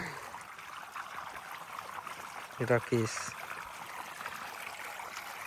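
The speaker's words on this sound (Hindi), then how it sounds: "पानी तो लहसुन में इतना ओवर हो गई कि अब रोकात नहीं के है" Irrigation water flows into a garlic field with a faint, steady trickling wash, briefly interrupted by a short spoken word.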